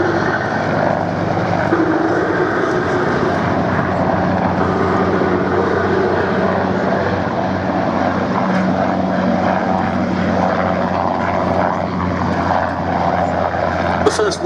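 A Westland Wessex helicopter's gas turbine engine and rotor drone loudly and steadily throughout during a flypast at an air show, with a voice commenting over the aircraft noise.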